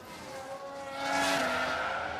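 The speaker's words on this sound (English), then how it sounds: "Sounds like we've had a spin." Race car in F1 Manager 2022, an Aston Martin, spinning out on track: a sustained engine whine with sliding pitch and a rising, squealing tire skid that swells midway and holds, loud and alone.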